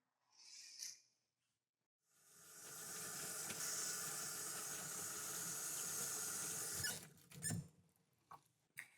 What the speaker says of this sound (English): Now that I've washed my hands